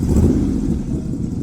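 A rat rod engine revs as the throttle opens, a loud, rough low-pitched growl that swells at the start and then settles into a steady rumble, close by, with no voices.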